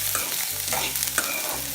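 Onions and tamarind-based ingredients for Nagercoil-style ulli puli pachadi stir-frying in a pan, a steady close sizzle with repeated scraping stirs of a spoon against the pan.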